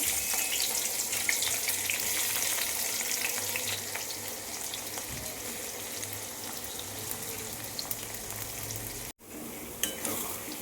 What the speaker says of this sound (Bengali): পেঁয়াজ ছেড়ে দিলাম